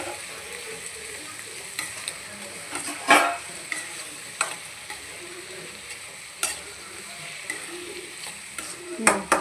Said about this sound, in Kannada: ಟೊಮೊಟೊ ಫ್ರೈ ಆಗಬೇಕು